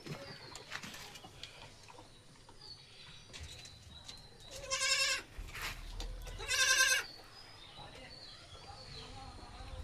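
Two loud, wavering bleats from young goats arrive midway, a couple of seconds apart, over a low background hum and faint chirps.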